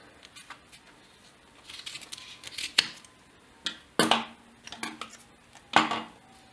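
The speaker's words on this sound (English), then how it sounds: "so we're going to remove the original webbing pull tab, and to do that I'm just going to cut it down here at the bottom." A webbing pull tab being cut off a leather sling, giving a few sharp snips and clicks spread across several seconds, close and fairly quiet, with light handling rustle between the cuts.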